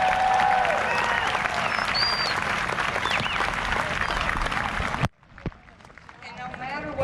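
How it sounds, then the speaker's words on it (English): A large crowd of National History Day students and guests at the national event applauds loudly and steadily. The dense clapping and cheering fill several seconds, then cut off abruptly, leaving a quiet hall with faint murmurs. "Please give yourselves a round of applause."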